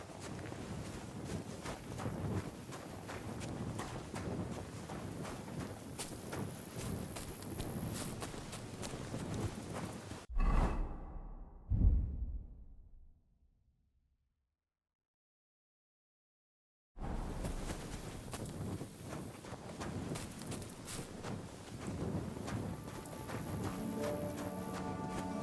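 Horse hooves clip-clop along a path in Kingdom Come Deliverance II, steady walking steps with outdoor ambience, broken by a short sharp thud and a few seconds of silence before the hoofbeats resume, with no talking.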